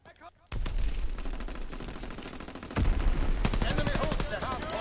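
Gunfire in a WW2 shooter game, with bursts of rapid shots that grow denser and louder partway through and continue steadily to the end, mixed with background game noise.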